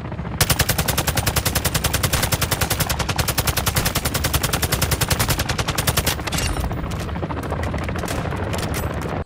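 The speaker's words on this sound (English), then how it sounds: "Enemy sniper!" Sustained rapid automatic gunfire in the video game Warzone 3 DMZ, a dense, loud burst of evenly spaced shots running nearly unbroken for about six seconds, then continuing slightly softer to the end.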